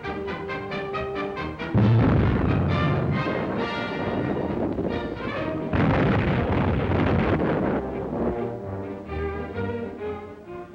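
Anti-aircraft guns firing in a 1941 movie trailer: loud, repeated booming bursts and rumbling blasts mixed with dramatic orchestral music, sustained for about ten seconds.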